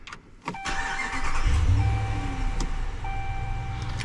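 A Ram 1500 Classic pickup with a HEMI V8 cranks and fires up, a brief starter burst followed by a loud, steady low idle rumble close by, with a chime tone ringing over it.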